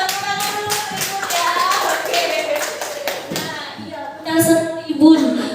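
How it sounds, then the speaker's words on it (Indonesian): Applause for a teacher at a school session in a senior high school, a burst of close hand clapping mixed with taps and thumps while voices talk over it. "Luar biasa, tepuk tangan dulu Ibu ya"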